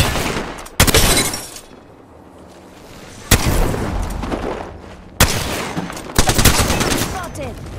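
Video game gunfire in Fortnite or Apex Legends, with sharp loud shots and bursts around the one-, three-, five- and six-second marks over a rumbling battle background, and a voice faintly present.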